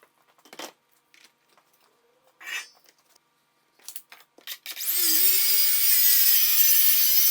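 Track saw slicing through a plywood sheet, starting after a few scattered knocks and rubs, then a loud sustained high-pitched cutting roar that runs steadily to the end, close and alone with no talk.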